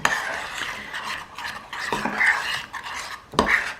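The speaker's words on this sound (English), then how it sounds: "you just give that a little mix so it all blends nicely together" A spoon stirs chicken kebab marinade in a bowl, giving soft scraping and clinking against the sides in several short bursts, close and moderately loud, with no talking.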